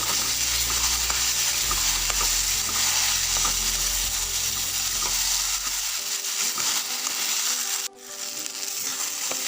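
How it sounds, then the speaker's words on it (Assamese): Boiled potatoes stirred and fried in a pan with reduced tomato for egg curry, a steady loud sizzle with scraping stirs that drops off sharply after about six seconds, leaving faint clinks and rustle. "এতিয়া অলপ সময় আলুখিনি এনেকৈ ভাজি ল'ম"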